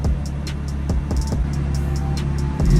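An Audi B8.5 fitted with an AWE Touring exhaust idles with a steady, deep low rumble, close and fairly loud, broken by a few sharp clicks and taps, swelling slightly at the very end.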